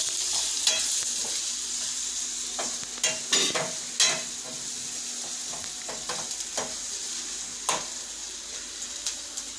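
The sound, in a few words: turmeric, chili and masala sautéing in pan for garadu bhaji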